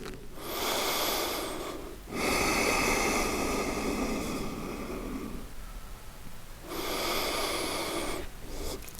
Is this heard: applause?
no